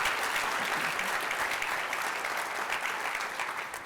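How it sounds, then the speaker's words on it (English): Round of applause from an academic affairs gathering, sustained even clapping from a seated audience throughout, tapering slightly at the end. "Let's give her a round of applause."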